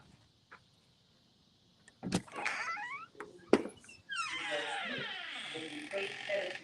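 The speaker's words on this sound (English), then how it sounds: "always a squeaky door" Squeaky door in a brand-new, under-warranty home in Winter Garden, Florida, opening with creaking, ratcheting squeals and clicks in a few close bursts, followed by a longer grinding creak.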